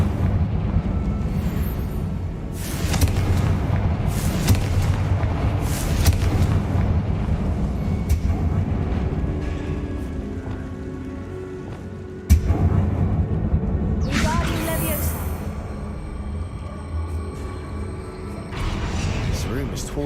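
A Confringo blasting spell goes off inside a tomb in Hogwarts Legacy, making a sustained rumbling, explosive roar with a sharp crack partway through and fresh bursts afterward, while voices talk over the noise.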